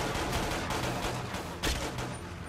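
Dense, continuous gunfire rattles through a Quantum of Solace video game mission, with rapid overlapping shots and a louder burst near the end, with no talk.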